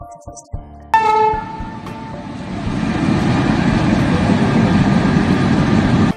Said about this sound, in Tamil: இந்த டிரைவர் ட்ரெயினை ரயில்வே கிராசிங் கிட்ட நிறுத்தி இருந்திருக்காரு